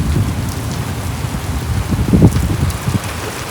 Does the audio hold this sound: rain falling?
yes